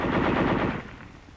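A tank's machine gun fires a short, rapid burst, loud and close, then cuts off and fades in a brief echo.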